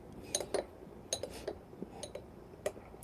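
A spoon clinks against a ceramic cup while stirring freshly pulled espresso, with a string of light, irregular taps and scrapes, close and fairly quiet, with no one talking.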